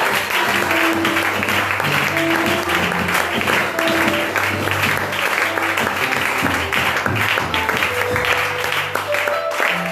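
A church congregation claps steadily and loudly to acclaim God during a fasting and prayer service, with sustained musical tones and some voices running beneath the applause.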